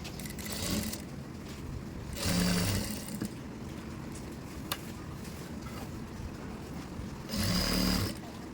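A sewing machine stitches falls onto a saree, running in a steady loud whir with two heavier surging bursts as the cloth is pushed straight through.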